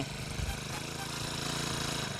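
A GOLDBULL F-35B portable sprayer pump's small engine runs steadily just after starting, a constant close mechanical drone with a low rhythmic chug that holds without pause.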